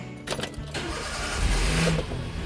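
A car engine cranks and catches, then settles into a steady running rumble that grows slightly louder, close by, with no voices.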